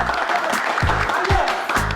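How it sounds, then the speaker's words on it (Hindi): An audience applauds in a steady, continuous wash of clapping, with low voices briefly sounding underneath. "आप मिर्जा साहब के लिए तालियां।"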